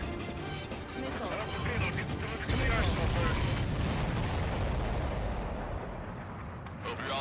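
Missile explosions in the Ace Combat 7 flight game boom in a dense, continuous barrage over a steady engine roar, with a loud swell midway, and radio voices talk over the battle.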